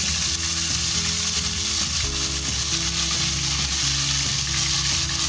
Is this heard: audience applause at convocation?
no